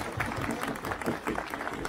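A crowd at the Parvatiya Basant Utsav 2023 hill spring festival claps steadily, a dense and continuous burst of applause for about two seconds.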